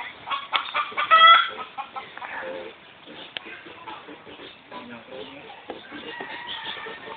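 Chickens cluck and squawk close by in a busy, uneven chatter, with a voice talking faintly underneath.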